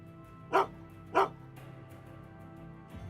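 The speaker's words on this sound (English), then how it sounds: "I've seen and heard about a dog being added." Dog in Gold Mining Simulator giving two sharp, close barks about half a second apart over a low background hum, with no talk.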